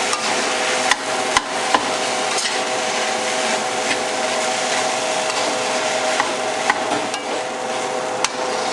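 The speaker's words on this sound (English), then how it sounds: "Now we're going to take everything and mix it all together." Steady scraping and clanking of a spatula stirring fried rice with soy sauce in a wok, close and continuous with occasional sharper metal knocks.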